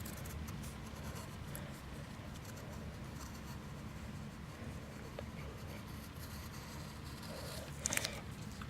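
A pencil sketches the wheel ridges of a supercar on paper, making soft, faint scratching strokes that continue steadily, with a brief slightly louder rub near the end.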